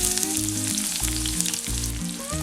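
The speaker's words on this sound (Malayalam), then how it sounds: "ഡാൽഡ ചൂടായി കഴിയുമ്പോഴത്തേക്കും ഇതിലേക്ക് എടുത്തു വെച്ചേക്കുന്ന സവാള ഇട്ട് കൊടുക്കാം" Sliced onions hitting hot Dalda ghee for Malabar chicken biriyani, a loud, steady, close sizzle filling the whole moment with no voices, backed by faint music.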